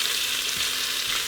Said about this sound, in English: Because I wanted to show the whole process is why I browned these in the InstantPot today.